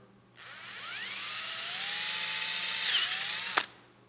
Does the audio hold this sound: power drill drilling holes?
yes